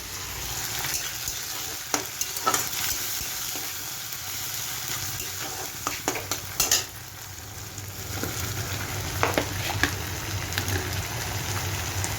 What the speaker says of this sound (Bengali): মশলাটা তো কষাতে হবে, তাই না?